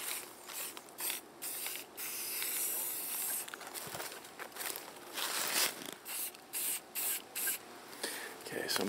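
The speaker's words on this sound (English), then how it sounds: "Each of our corners is marked with an orange color, orange spray paint." Orange spray paint sprayed from a can to mark plot corners in woodland, heard as a series of close hissing spurts, one longer spray early on followed by many short, rhythmic bursts.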